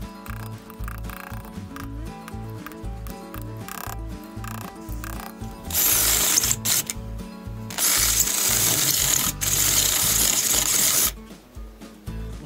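A power drill bores through a weld spot on the exhaust of a Yamaha PW80 dirt bike, with rhythmic grinding bursts followed by loud sustained metallic screeching that cuts off near the end.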